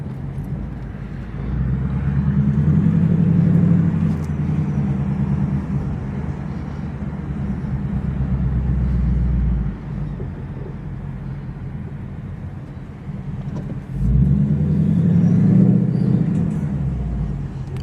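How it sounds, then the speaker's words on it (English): Deep rumbling Mustang GT engine with a whooshing air intake, surging loudly twice as the throttle opens, then settling back to a steady drone. "You can hear that air intake."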